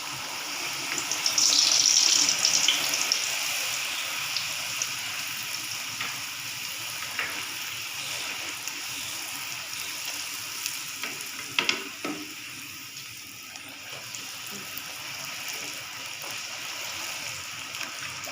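Puris frying in hot oil, a steady close sizzle with bubbling throughout and a brief clatter near the middle, no talking.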